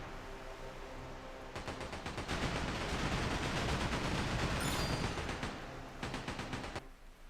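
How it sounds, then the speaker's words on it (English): Ship cannons boom in a rapid volley in Like a Dragon: Pirate Yakuza, a dense run of repeated blasts building to a loud sustained roar before fading into scattered shots. "Press right trigger to fire the starboard cannons and left trigger to fire the port cannons."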